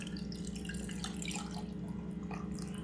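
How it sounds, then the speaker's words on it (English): Coffee poured over ice for a homemade iced latte, a continuous splashing, trickling pour with faint clinks, close and fairly quiet with no talking. "I'll pour in my coffee."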